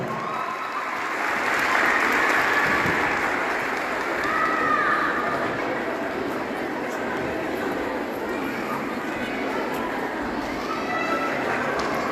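Audience applause for an official stepping onto the stage at a Women's Day celebration in Tosya, a broad, steady clatter of clapping from a crowd that swells slightly early and then holds evenly throughout.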